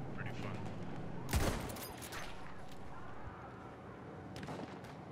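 A sniper rifle fires in a first-person shooter game, one sharp loud shot with a ringing tail, set against steady battlefield din and scattered distant gunfire.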